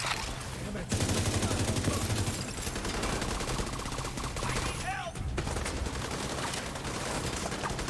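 Rapid bursts of flame-round gunfire in The Division 2, a dense, loud, continuous volley of shots with a brief pause near the middle, game effects mixed in.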